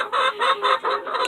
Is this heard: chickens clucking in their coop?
yes